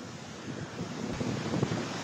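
Strong wind buffets the microphone on a beach during a monsoon storm, with rough surf rumbling underneath in a continuous roar that swells slightly midway.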